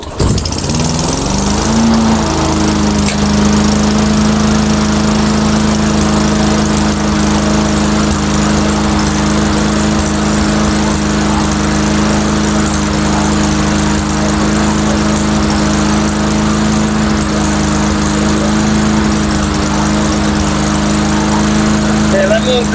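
Small lawn mower engine idling steadily after repair, a loud, close, continuous buzzing drone that settles after starting and runs unchanged throughout.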